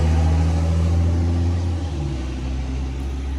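A FedEx delivery truck passes on the road with a steady, low engine rumble and tire noise, fairly close and easing off slightly as it goes by.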